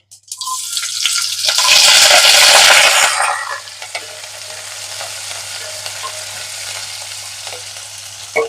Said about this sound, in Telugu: చిట్పట్లాడగానే ఉల్లిపాయలు పచ్చిమిర్చి వేసుకోవాలి.